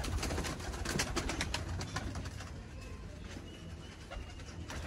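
Pigeons kept for a kabootar bazi pairing game, cooing and fluttering amid a dense, noisy outdoor bed of rustling and clatter, fairly loud and continuous with no clear voices.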